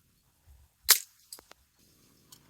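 A single sharp crack from an air rifle firing a Crosman Premier pellet, close and brief in otherwise quiet surroundings, followed by a couple of faint clicks.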